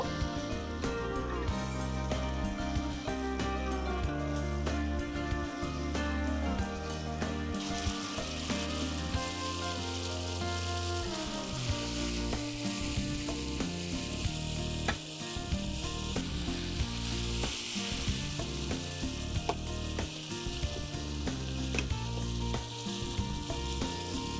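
Fish chili curry simmering in hot oil in a Bengali home kitchen, a steady continuous sizzle and bubbling with a few clinks, loud and close, becoming brighter and hissier partway through.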